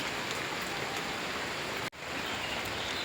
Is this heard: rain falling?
yes